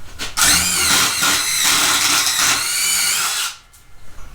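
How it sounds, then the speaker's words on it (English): A Craftsman V20 brushless cordless impact driver drilling with a 5/16 bit, a loud, close whine lasting about three seconds at high speed before spinning down, no voices. "we're going to be drilling with the 5/16"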